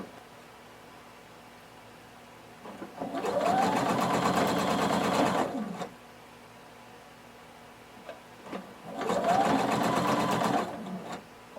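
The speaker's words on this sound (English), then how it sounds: "I'm going to start to sew and pull my neckband a bit so that it fits onto my neckline" A sewing machine stitches a neckband onto a tank top neckline in two bursts of rapid, even needle clatter, each lasting a few seconds, with quiet pauses between.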